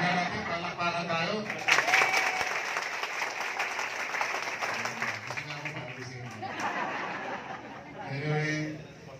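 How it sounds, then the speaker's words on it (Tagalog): Crowd at a Philippine political rally breaking into applause, a broad wash of clapping mixed with laughter and cheering voices, loudest early on and fading toward the end. "Tingnan nga natin, palakpakan tayo."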